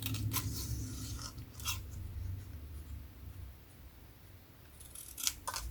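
Scissors snip paper for a scrapbook album in a few short, crisp cuts with quiet rustling between them, close and fairly faint.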